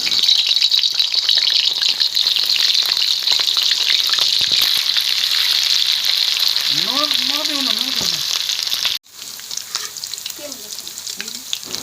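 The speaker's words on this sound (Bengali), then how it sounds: "এখন আমি আলুগুলো তেলে ভেজে নেব।" Boiled potatoes fry in hot oil for Kolkata-style chicken dum biryani, a loud, dense, continuous sizzle up close, with a short tonal sound partway through and a sudden drop to quieter frying near the end.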